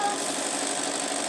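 A sewing machine stitches a plastic pocket in one brief, steady mechanical hum, close and continuous without a pause.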